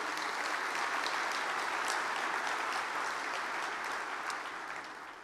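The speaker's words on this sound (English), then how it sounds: "So a round of applause for them, please." Steady applause from a large crowd at the 2014 NAIS Annual Conference opening general session, dense and continuous, fading slightly toward the end.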